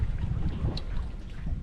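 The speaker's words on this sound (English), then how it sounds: "I wonder why it's idling so high right now." Jet boat engine idling high, a dense low rumbling drone with a steady throbbing texture, close and continuous throughout the short stretch.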